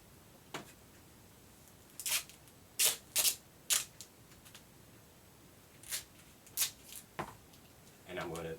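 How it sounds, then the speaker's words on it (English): Packing tape pulled off a roll and pressed onto flat cardboard box flaps, several short rasping rips in quick bursts against a quiet hiss, close by. "I'm going to tape them together so that it'll be flat."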